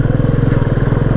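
A motorcycle engine thrums steadily at close range while riding on a long return trip from Champawat to Mathura, a loud, rapid pulsing note with no speech over it.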